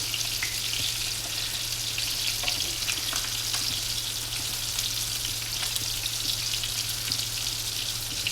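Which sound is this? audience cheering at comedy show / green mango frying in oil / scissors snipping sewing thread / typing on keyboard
green mango frying in oil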